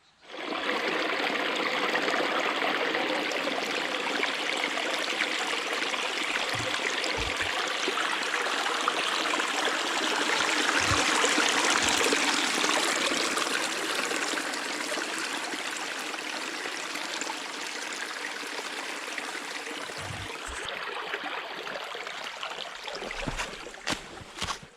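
A creek flows beside a forest campsite in Uwharrie National Forest, a broad continuous rush of moving water that swells and eases slightly, with a few soft knocks and scuffs near the end.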